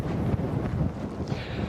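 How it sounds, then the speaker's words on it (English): Strong wind gusts buffet the microphone at Revere Beach on the North Shore during a storm, a loud, continuous rumbling roar that swells and eases without any voices. "The winds here on the North Shore have already gusted over 50 miles an hour."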